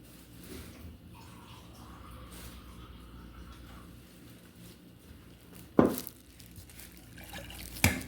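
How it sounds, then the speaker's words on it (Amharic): Cold water is poured into a biscuit dough mixture and stirred, making a faint, soft liquid trickle and sloshing, with two sharper splashes or knocks near the end. "ውሃን ቢስሚላ እጨምርና አማስላለሁ"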